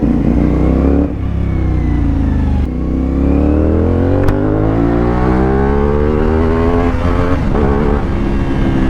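A CF Moto 450SR motorcycle with an Akrapovic exhaust revs loudly and close by, the engine note climbing steadily through several long pulls with brief dips between them.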